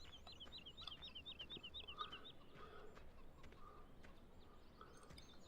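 Non-laying chickens at a farm museum cluck in a repeated, squawky series, fairly faint against steady background noise, with no talking.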